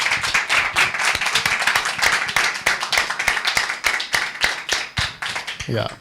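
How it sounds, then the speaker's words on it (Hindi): A group claps in praise of God, with distinct, fairly close hand claps that start out fast and then thin into a looser, uneven rhythm for about six seconds. A voice breaks in at the very end. "एक बार अच्छी ताली बजाकर परमेश्वर को"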